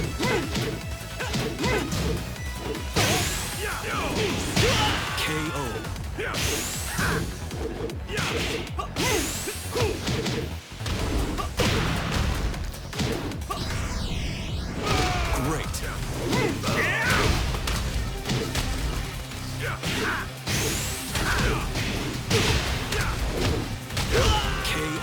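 Tekken fighting game combat fills the stretch with dense, rapid smashing hits, whooshes and combo impacts, heard continuously under someone talking over the gameplay.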